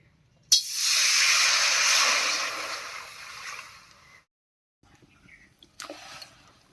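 Water poured into a hot kadai just after cumin and coriander were dry-roasted, to boil elephant foot yam. A sudden loud steam hiss erupts, holds for several seconds and fades, followed by a pause and faint kitchen clatter.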